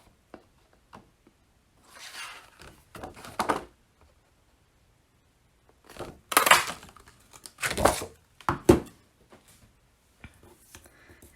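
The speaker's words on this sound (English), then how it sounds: "I'm going to punch this out with my 2-inch circle punch" A 2-inch circle punch cuts through paper for a handmade card, giving a few crisp crunching snaps in two separate clusters, close and fairly loud against quiet.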